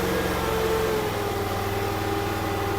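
A new mini skid steer's small engine idling just after start-up, a steady close throbbing chug with a low pulsing rhythm that settles slightly after a second, continuous and alone.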